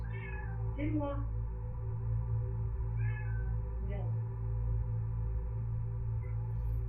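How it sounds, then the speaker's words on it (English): A distressed cat lets out several drawn-out, unhappy meows in the middle of a tense, creepy scene. The cries come in separate bursts over a steady low hum, and a person speaks briefly. "That cat's not happy."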